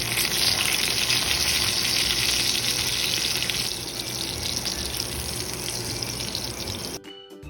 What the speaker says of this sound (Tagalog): I-sear lang natin ito para mag-lock in ang juices at maganda ang crust.